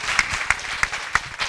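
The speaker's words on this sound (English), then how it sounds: "Let's clap for her as she comes to the stage" Audience applause at a school debate event as a speaker walks to the stage, continuous clapping with a few sharper accented claps standing out at regular intervals.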